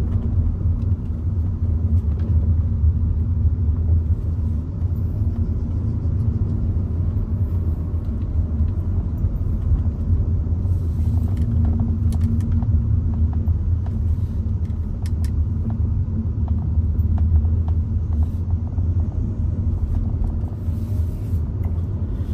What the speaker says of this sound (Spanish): solo quería enseñar que el coche se puede conducir por sitios así también